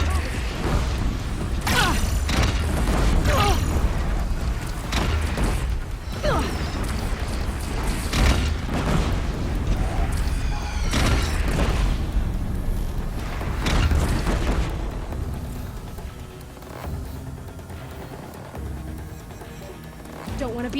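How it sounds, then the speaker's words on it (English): In Horizon Zero Dawn, a Deathbringer machine fires explosive shells: repeated heavy booms and bursts with mechanical clatter, heard under in-game voices and easing off toward the end. "Deathbringer fire! Incoming!"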